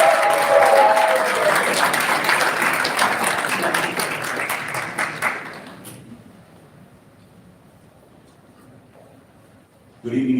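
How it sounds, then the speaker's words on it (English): An audience at a Melbourne evening event claps steadily for about six seconds, a dense wash of hands that then thins and fades to near quiet before a speaker's voice begins at the very end. "can you give him a round of applause?"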